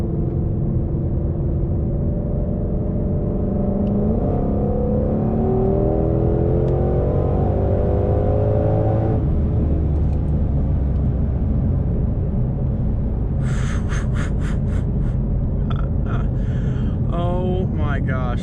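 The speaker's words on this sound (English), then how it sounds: "Oh my gosh, the exhaust is crazy." Ford Shelby GT500 engine and exhaust accelerate hard from inside the car, with a loud continuous roar rising through quick gear shifts and a few sharp high crackles near the end.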